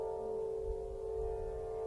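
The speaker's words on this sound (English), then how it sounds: "what you're hearing is an Aeolian harp, wind harp, placed in the center of Stonehenge on a summer solstice." An Aeolian wind harp set in the centre of Stonehenge on the summer solstice is played by the wind through its strings. It gives a soft, steady sustained drone with a faint low rumble of wind beneath.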